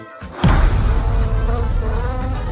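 A loud, close buzzing drone starts abruptly as a bee flies off and holds steady, the pitch wavering slightly as it carries on without fading much.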